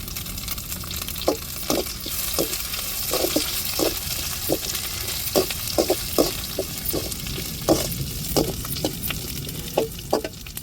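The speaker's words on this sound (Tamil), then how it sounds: "வெங்காயம் நல்லா வதங்கி வரட்டும்" Onions sautéing in a pan for a crab fry dish, a steady sizzle under repeated scraping stirs of a utensil against the pan, close up with no talking.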